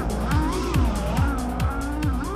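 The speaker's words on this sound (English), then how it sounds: "Sounds like his quad has a damaged prop." A racing drone quad with a damaged propeller whines at a high, wavering pitch during a drone race, broken by rhythmic dips and swoops about every half second. Crowd or commentary noise sits faintly underneath.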